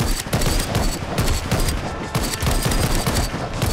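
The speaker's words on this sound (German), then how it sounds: "Weil die schießt doch deutlich schneller als die andere Waffe" A rapid-firing gun in the VR zombie shooter Arizona Sunshine lets off a fast, continuous burst of loud, close shots in a tight, even rhythm, with no talking over it.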